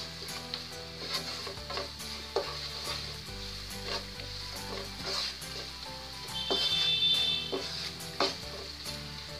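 Masala with kasuri methi roasting on a low flame for aloo gobhi, a soft continuous sizzle with occasional stirring clinks under background music.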